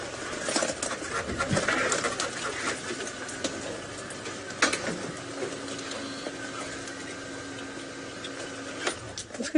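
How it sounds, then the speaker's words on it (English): Birds in a buffalo thorn tree give agitated alarm calls at a safari drive at sunset, scattered chirps and sharp notes over a low engine-like hum and background noise. "here the birds are alarming."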